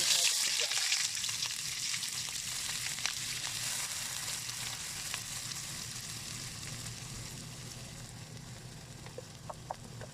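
Mustard oil heats in a kadhai with a continuous soft sizzle that fades slightly over time. Occasional light crackles and clicks are heard, and a voice is faint in the background.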